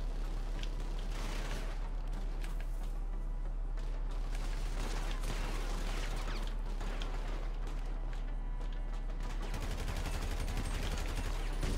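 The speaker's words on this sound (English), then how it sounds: "Someone just shot me with a shotgun from like nowhere" In Grand Theft Auto 5 Online during a dirt race, shotgun gunfire booms in repeated loud blasts over a dense, constant game soundscape of engines and rattling mechanisms.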